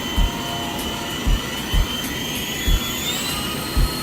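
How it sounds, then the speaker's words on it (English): A Walkera V370D01 flybarless RC helicopter with its stock 370 brush motor climbs out, giving a steady high-pitched electric whine with rotor hum that rises slightly in pitch, with periodic low thumps, and no voices. "Let's do a climb out and show you guys the power on the stock brush motor."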